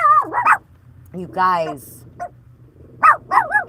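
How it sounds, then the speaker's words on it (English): A dog out front barks and yelps in loud, close bursts, with a drawn-out whining howl between the sharper barks. "There's a dog out front."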